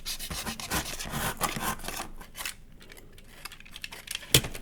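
Cardboard for a desk organiser is trimmed up close, giving a rough, scraping and rubbing sound in dense strokes that ease off midway and end with a sharp click.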